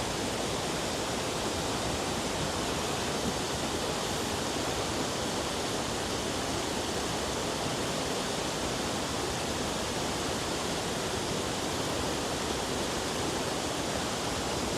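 A waterfall on a hiking trail roars as a steady, dense rush of falling water, loud and unbroken throughout with no voices over it.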